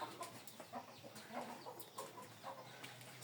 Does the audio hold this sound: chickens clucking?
yes